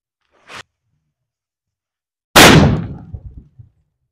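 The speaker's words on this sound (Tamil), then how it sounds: "ரெண்டு வச்சா ஒன்று மட்டும்தான் வெடியுது" A firecracker bomb goes off outdoors: a small crack comes first, then after a short silence a loud sharp blast that decays with crackling debris over about a second.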